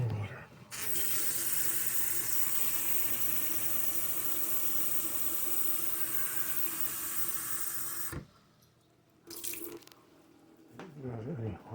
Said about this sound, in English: I'm going to add a little bit more water